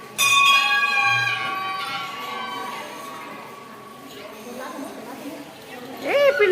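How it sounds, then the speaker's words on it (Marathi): A metal bell at a village Hanuman temple is struck once and rings out with a clear tone that slowly fades over several seconds, with people talking faintly around it and a voice calling out near the end. "बेल वाजवली काय पिलू?"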